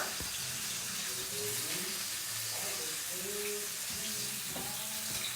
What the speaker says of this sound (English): Do you see how it's like cooking down and searing on all sides?